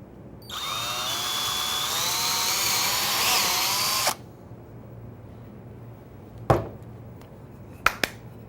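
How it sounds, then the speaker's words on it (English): A power drill bores a pilot hole, countersink and counterbore in wood with a single bit, a steady high whine of about four seconds, followed by a few sharp knocks and clicks. "with just one bit, I'm ready to drill the pilot hole, the countersink, and the counterbore"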